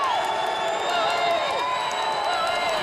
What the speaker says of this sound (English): Crowd coming back to life here in Chicago